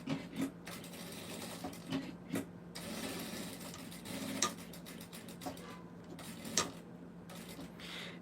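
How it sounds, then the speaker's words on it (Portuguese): A sewing machine stitches fabric right around a piece for a bunny toy, with a rapid mechanical ticking that runs in bursts and brief pauses, close and moderately quiet. "eu vou costurar ele aqui a volta toda e vou deixar uma abertura aqui na base para desvirar"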